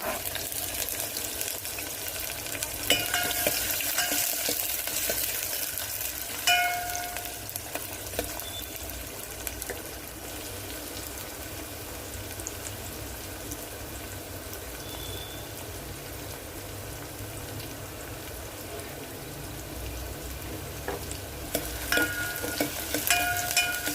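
Chopped onions and green chilies fry in a pan for tomato rasam, with a continuous close crackle and hiss like light rain. Occasional stirring scrapes mark the sound, which holds even and steady throughout.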